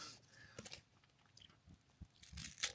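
Crunchy bites into an American chocolate candy bar, close and intimate, with a few sharp snaps and crackling chews in quick irregular bursts over a quiet background.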